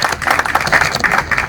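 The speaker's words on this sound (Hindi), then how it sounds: "आपकी भरपूर तालियों में" A seated audience at a Pakistani political party gathering claps in welcome, a brief burst of close, brisk hand claps from a modest crowd.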